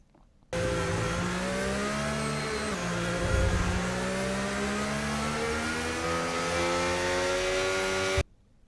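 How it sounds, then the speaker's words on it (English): Race car engine in a racing video game at Silverstone, driven to warm the tyres behind the safety car: a loud, sustained high-pitched whine with a brief dip and surge midway, cutting off abruptly. "So we're just warming up our tyres now without destroying them, like Kimi Räikkönen does."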